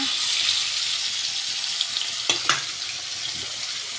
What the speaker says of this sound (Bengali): এক এক করে মাছটা ভাজতে থাকবো